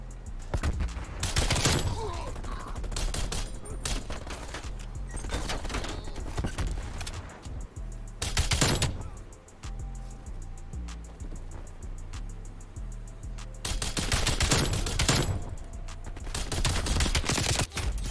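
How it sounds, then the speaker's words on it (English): Bursts of automatic gunfire from a DMR 14 and other weapons in a Black Ops Cold War multiplayer match, loud repeated volleys in several clusters with gaps between them, under occasional muffled voices. "Dude, why are you shooting my body?"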